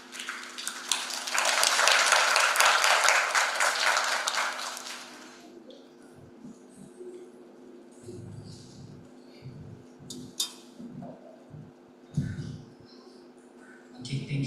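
Audience applause at the close of a public health guest lecture, a dense burst of clapping for about four seconds that fades out, followed by quieter room noise with scattered faint sounds.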